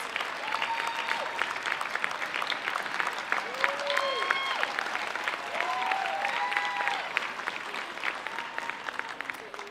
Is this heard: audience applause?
yes